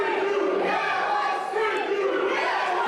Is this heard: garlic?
no